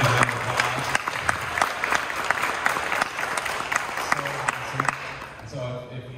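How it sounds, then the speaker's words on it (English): An audience applauds a high school head band director at a jazz band performance, steady dense clapping with a few cheers, continuing for several seconds before tapering off near the end. "Everyone give him a round of applause."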